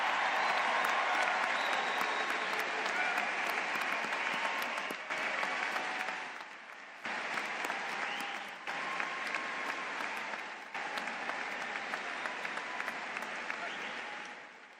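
Large audience at a Florida State University spring commencement applauding standing honor graduates, a long steady roar of clapping with abrupt level shifts and brief dips, and a voice briefly audible beneath it.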